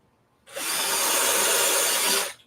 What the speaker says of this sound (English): I'm driving some pretty long screws here, so I got to impact it quite a ways, even though it is pine.